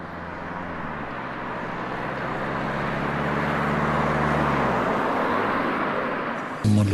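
A loud, steady aircraft engine roar swells and holds, with a low droning tone sliding downward before a sudden thump at the end, as the plane crashes moments after liftoff.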